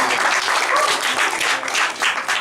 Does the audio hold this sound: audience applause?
yes